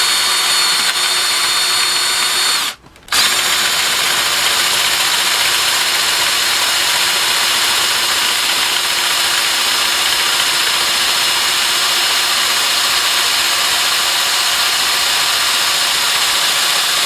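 A power drill with a freshly resharpened bit, sharpened on a belt sander at a job site, bores a hole with a loud, continuous high whine that stops for a brief moment early on, then runs steadily.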